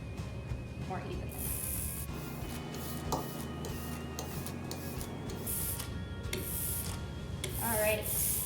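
A brayer rolls blended printing ink across a plate, making repeated tacky, sticky rolling strokes in short bursts against a quiet room, with faint voices in the background.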